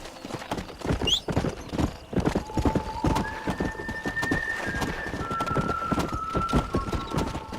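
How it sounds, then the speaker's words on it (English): Horse hooves clip-clopping in a steady rhythm in Red Dead Redemption, with a short whinny early on, close and clear, while a long siren-like tone sounds in the background. "We got some fine horses."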